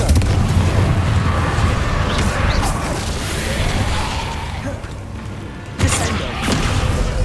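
A Confringo blasting spell bursts in Hogwarts Legacy with heavy booming explosions and crashing debris, rumbling loudly through the stretch with another sharp blast near the end.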